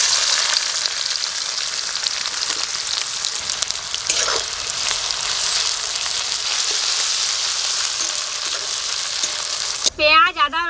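Ginger-garlic paste with onion, dried and green chillies and bay leaf fries loudly in hot oil, giving a dense, continuous sizzle with faint stirring. A brief voice cuts in at the very end.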